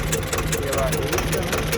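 A tractor engine idles during ploughing, running hot after a broken stopper, giving a steady low rumble with a faint tonal hum while someone talks over it.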